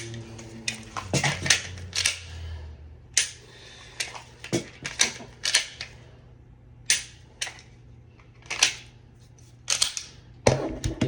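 Sharp mechanical clicks of a pistol being dry fired and handled during practice, in irregular bursts of crisp snaps and clacks, close and fairly quiet in an otherwise silent room.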